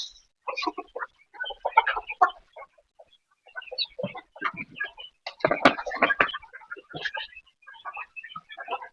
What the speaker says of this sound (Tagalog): Yung mga alaga ni June na mga manok.